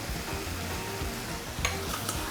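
A handful of side dish stir-fries in a hot pan for a Korean home-cooked banchan, with a steady close sizzle and a few brief scraping stirs.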